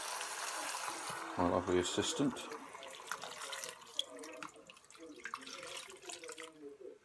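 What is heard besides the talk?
stock being poured into cooking pot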